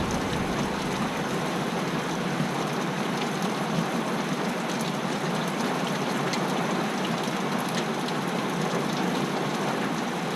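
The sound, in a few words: heavy rain falling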